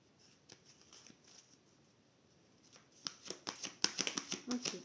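Tarot cards shuffle softly at first, then in a quicker, louder run of close papery riffles and flicks toward the end, with a faint murmur of speech in the background.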